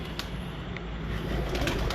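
Breeder pigeons of a mixed bloodline coo softly in a loft, their low murmuring steady against a dense, continuous background hum with no talking.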